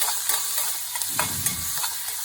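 Ginger, garlic and green chilli paste is stirred into onions in a hot pan, with a continuous sizzle and soft scraping strokes repeating at close range.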